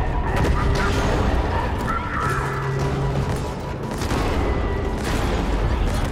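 Dense, continuous bursts of rapid gunfire in Halo Infinite crackle over a steady rumbling background, with a few heavier booms mixed in, like a busy battle scene.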